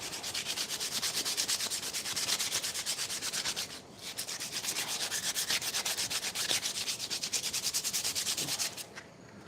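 Steady, rhythmic rasping of sandpaper on a carved wooden axe handle, close and continuous, with a short pause midway before the strokes resume.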